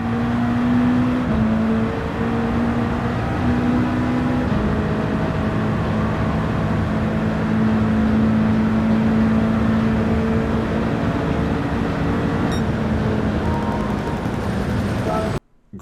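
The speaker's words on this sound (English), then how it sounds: "we'll take a listen just here to how this car sounds going around the track" Race car lapping a track in Gran Turismo 7, a loud sustained engine drone with shifting pitch and gear changes, heard alone, cutting off abruptly at the end.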